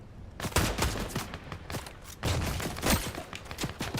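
Rapid bursts of gunfire in the Fortnite video game rattle in quick successive shots, clustering into two volleys with brief gaps, moderately loud and without talk.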